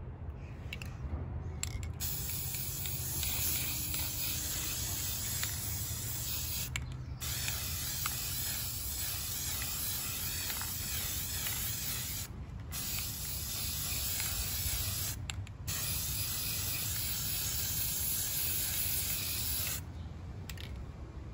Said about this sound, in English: I'm gonna go outside and spray paint this